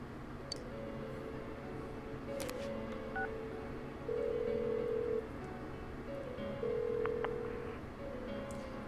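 Telephone dialing tones in the Persona 4 Golden video game: a steady run of clean electronic beeps, several held tones of differing pitch stepping one after another over a quiet background hum.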